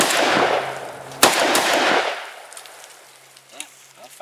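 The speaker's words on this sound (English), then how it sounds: "Well, 5 shots just as that stovepipe on the last round again." An AK-style semi-auto shotgun, a Saiga 12 or VEPR-12, firing outdoors: loud booming reports with a sharp crack near the start, rolling decay, then quieter metallic clicks.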